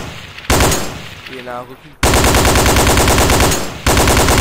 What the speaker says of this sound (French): On va passer sur la M60 A2. C'est une batteuse, c'est à peu près la même, en fait. Sauf qu'elle tire plus vite.